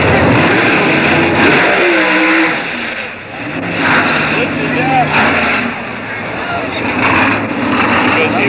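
A turbocharged V6 Buick drag racing car at the 1988 NHRA Winternationals in Pomona roars loudly down the strip, engine note rising and falling, with an announcer talking over the noise.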